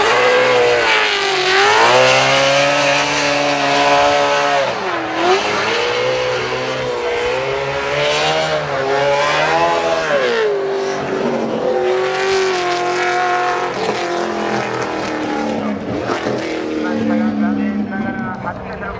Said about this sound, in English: Just enjoy the sound of Daigo Saito's NASCAR V8 Altezza here.